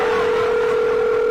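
A telephone rings on a radio call-in show, one long steady electronic tone held loud and unbroken.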